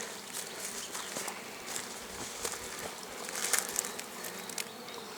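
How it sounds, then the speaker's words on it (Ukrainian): Bees forage over flowering rapeseed, their buzzing a steady, dense outdoor hum, with brief sharper passes and ticks as individual insects fly close. "бджолка йде в ріпаку, принаймні її половина"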